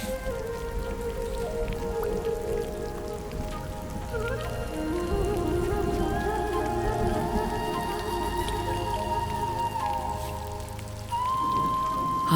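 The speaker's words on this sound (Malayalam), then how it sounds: "ആദ്യ മഴ," First rain of the season falling steadily on surfaces, a dense even patter with occasional brighter drips and a faint tonal hum drifting through, loud and constant with no voices.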